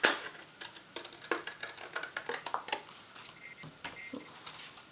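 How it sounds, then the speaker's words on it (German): Scissors snip through paper while making a gift card holder, a quick run of crisp, close cuts and rustles at an uneven pace, with no speech. "Ich mache das hier lieber mit der Schere."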